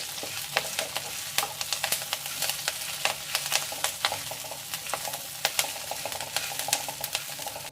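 Curry leaves and spices for a dry chutney powder fry in hot oil, giving a steady crackling sizzle with frequent sharp pops and spatter throughout, no voices.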